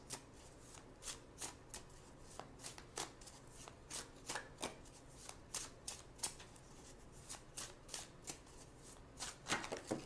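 A deck of tarot cards is shuffled by hand up close, making quick papery riffles and soft taps in an uneven rhythm that carries on throughout at a quiet level.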